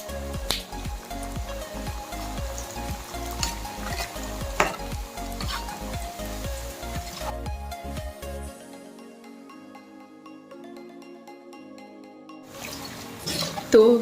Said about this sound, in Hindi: अब हम इसमें डालेंगे अपनी लंबी मटरी जो हमने लंबे साइज में बनाई थी। इसको भी हम अच्छे से फ्राई कर लेंगे।